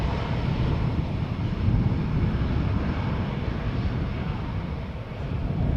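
A passenger airplane taxis at Schiphol Airport, its engines giving a loud, steady, low rumbling roar with a broad hiss, constant throughout and alone.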